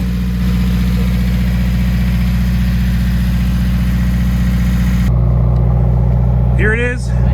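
A 2017 Subaru WRX engine idling after a motor repair, a loud, steady, close-up low rumble with an even tone throughout and a brief whine rising near the end.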